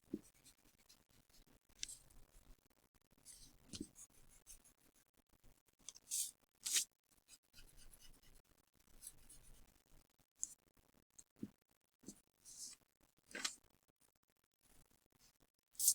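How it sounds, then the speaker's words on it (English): A pencil eraser rubs out lines on paper in short, faint, scratchy bursts separated by quiet pauses, close to the listener and without speech. "now you need your eraser, and we're going to erase these 2 lines"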